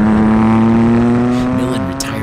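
The No. 75 Nissan 300ZX race car screams at high revs as it's driven hard on track at Monterey, a loud sustained engine note with a brief dip as it shifts near the end.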